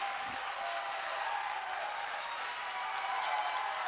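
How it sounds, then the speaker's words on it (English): A large indoor basketball crowd at a college men's game roars and cheers steadily, a dense wash of voices and applause that holds at an even level throughout. "Crowd responding to Coach Ostanek, telling him make some noise"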